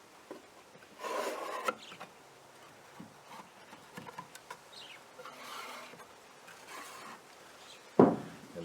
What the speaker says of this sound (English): they're very easy just now to trim that off with a scraper, clean out these areas